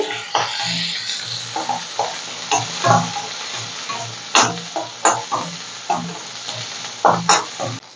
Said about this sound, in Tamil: அப்புறம் கொஞ்சமாக வெங்காயம் வெள்ளத்தூள் ரெண்டையும் வதக்கிட்டு